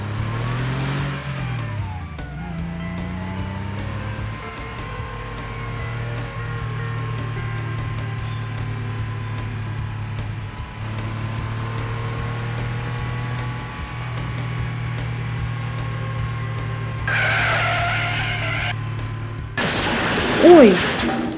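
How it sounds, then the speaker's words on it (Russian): Yellow and red toy-style cars race each other, a steady engine drone that rises and revs throughout, with pitch sweeps early on and a brief brighter burst near the end. "Желтая и красная машины устроили гонки."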